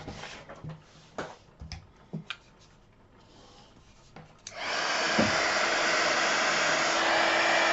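A heat embossing tool switches on and blows hot air steadily and loudly for the last three seconds, after several sharp taps and clicks from crafting handling.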